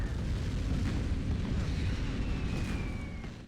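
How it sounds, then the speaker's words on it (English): Airstrike explosions in a film: a loud, continuous roar of blasts and deep rumbling fills the whole stretch, fading slightly at the very end. "during which they meet an airstrike"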